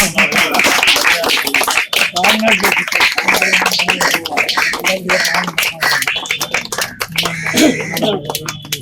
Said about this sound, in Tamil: பயங்கரமா கரகோஷம் பண்ணுவோம்.